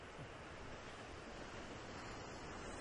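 Sea waves and surf roll in a steady broadband wash, very faint and continuous, with wind noise and no voices.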